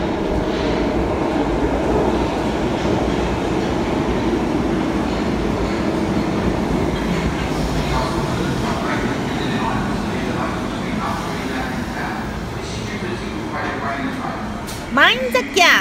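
A London Underground train rides along the tracks with a steady rumbling roar and rattling carriage noise throughout. Near the end come a few brief louder squeals and clunks.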